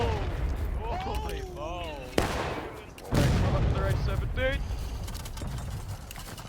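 A rifle volley fires in the War of Rights game during a Civil War event at Pry House and Burnside Bridge: a sharp crash, then a heavier burst of massed shots that rolls on, with voices talking over it.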